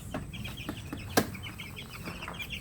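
Young chickens clucking in short, repeated bursts before feeding on a backyard farm, with one sharper louder call midway and steady low farm ambience.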